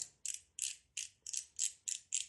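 A ratchet socket wrench from a mechanic's tool set is turned in about eight even strokes, each one a crisp burst of clicks, close and fairly quiet with no talking.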